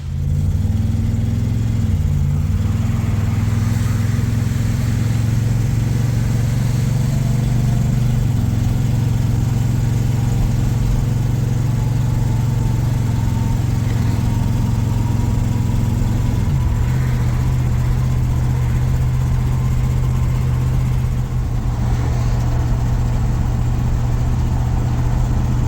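A car fitted with a 2-step and flames runs and idles nearby, a loud, steady low engine rumble with slight shifts in pitch over its length and no talking.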